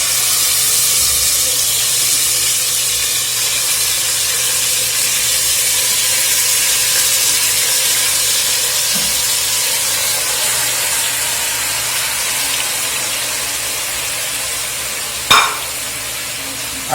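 Chicken pieces frying in hot oil in a pan over medium heat, giving a steady, even sizzle and hiss throughout, with one brief sharper clatter near the end.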